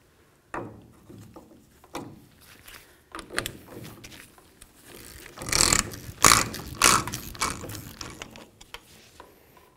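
A four-prong tool working a nut loose from the rear backing plate of a 1999-2007 Ford Super Duty F-250, with scattered metallic clicks and ratcheting scrapes, louder clanks bunched toward the end.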